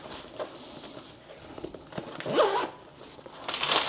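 A zipper on the top pouch of an Aer City Pack 14L backpack is pulled in a couple of quick rasping strokes, close up, amid light rustling and handling of the bag.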